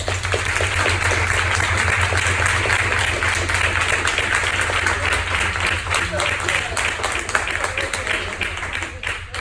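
Audience applause fills the room steadily and loudly, a dense wash of clapping that holds for the whole stretch with no voices rising above it.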